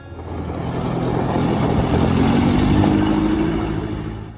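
Massey Ferguson 135 tractor from the mid-1960s, its engine running close and loud, rising as it revs and then settling, with a low steady throb.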